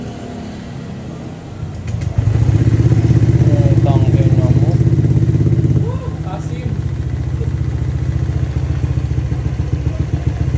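A Honda Click scooter with an aftermarket Kenochi exhaust pipe runs close by with a deep, throaty idle that swells louder for a few seconds, then settles back, while people speak briefly over it.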